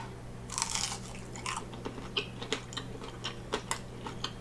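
A basmati rice cake is crunched and chewed close up, with a cluster of crisp bites followed by irregular sharp crunches and softer chewing.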